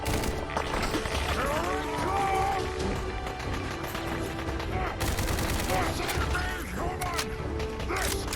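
Gunfire in Fallout 4 during a Minutemen battle, rapid bursts of shots and mechanical clatter over a busy, loud combat soundscape, with scattered bangs across the whole stretch.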